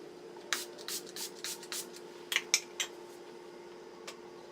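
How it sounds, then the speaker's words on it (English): Milani Make It Last setting spray misted in a rapid series of short, close hissing bursts, several quick pumps then a few more after a pause, with quiet room tone and no talking. "I'm going to use the Make It Last Setting Spray by Milani"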